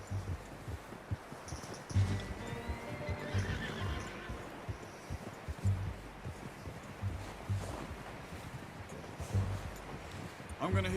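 Horses in the Red Dead Redemption video game, with repeated whinnies and neighs and a steady clip-clop of hooves throughout, while someone talks over the sounds.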